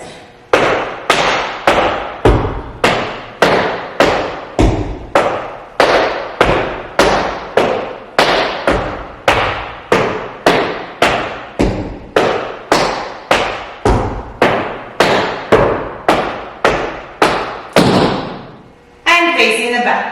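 A beginner-to-intermediate tap dance combo of shuffles, heel drops and ball changes, with about thirty crisp, evenly spaced taps ringing out loudly on a hard floor and a short pause near the end.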